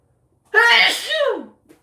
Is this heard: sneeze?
yes